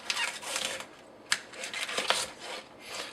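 A knife slices bok choy into wide strips on a cutting board, quiet crisp crunches and scraping strokes in an irregular series with a few sharper knocks of the blade against the board.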